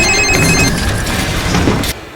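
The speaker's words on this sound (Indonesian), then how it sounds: "karena suara-suara handphone yang sangat berbunyi dengan kencang, makhluk-makhluk itu pun berdatangan" Several mobile phones ring loudly inside a house in a film scene, overlapping electronic ringtones sounding continuously before cutting off near the end.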